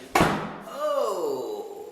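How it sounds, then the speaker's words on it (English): A closet door in a walk-through closet leading to a bathroom, in a house in Barbados, swings shut with one sharp, close thud, followed by a voice talking. "I'm going to close this door again."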